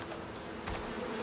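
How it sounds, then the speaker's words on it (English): Bees buzz continuously in the survival game Icarus, a close, steady insect drone that holds at an even level with slight swells. "Where are those bees? I cannot believe they spawned again."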